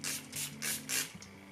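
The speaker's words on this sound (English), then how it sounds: "The finishing touch of some spray." Several short hissing sprays of makeup setting spray in quick succession, close and quiet, each puff a soft airy burst.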